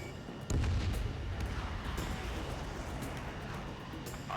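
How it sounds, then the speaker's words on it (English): Missile launch in the Ace Combat 7 flight combat game: a sudden loud whoosh-boom at about half a second gives way to a sustained roaring rush that stays strong to the end, with no talking. "Missile launched."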